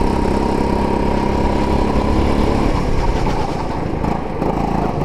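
A racing go-kart engine at full throttle, a loud, continuous buzzing drone that holds steady and dips slightly as the kart works through a corner, heard up close with no talking.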